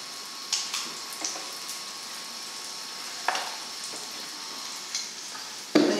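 Pancake batter for stuffed pancake wraps cooking in a buttered pan: a steady, soft sizzle with sporadic small crackles and pops, ending in a sharper clatter.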